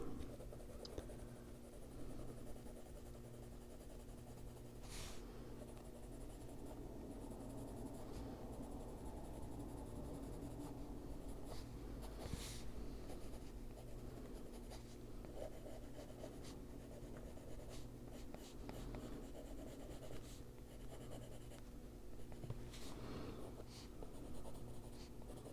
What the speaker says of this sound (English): now in with the drawing pencil